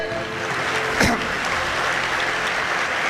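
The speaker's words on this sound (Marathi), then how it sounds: "सर्वांनी एकदा स्वतःसाठी टाळ्या वाजवा" An audience in Washim claps together, a dense steady wash of applause with one sharper burst near the start, filling the whole clip without speech.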